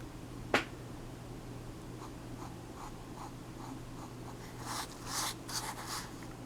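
Quiet pencil or pen strokes on paper while drawing an envelope, a soft series of rhythmic scratches at close range over a low steady hum, ending in a few louder rustling strokes.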